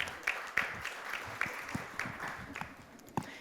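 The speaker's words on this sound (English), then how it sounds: "give them a very warm round of applause" A conference audience claps to welcome panelists to the stage at a session on raw materials for zero-emission targets, sparse and fairly quiet, with distinct individual claps standing out from a thin patter.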